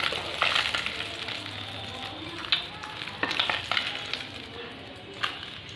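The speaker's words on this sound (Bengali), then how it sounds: "এবার আমি তেলের ওপর গোটা জিরে, এবার গোটা জিরে দিয়ে দিচ্ছি, তারপর দিচ্ছি গোটা গরম মশলা" Whole cumin and whole garam masala hit hot oil, setting off a lively sizzle with sharp crackles and pops scattered across a few seconds, close and fairly loud.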